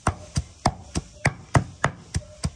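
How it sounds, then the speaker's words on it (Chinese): Vines are chopped finely for pig feed, with about nine sharp, evenly spaced chops struck close by at a steady rhythm and no talking. "要剁到那么碎吗？"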